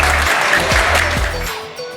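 Villagers in Zioud, a rural Moroccan village receiving humanitarian aid, applaud together in a steady, dense burst of clapping that stays fairly loud throughout, with faint voices mixed in underneath.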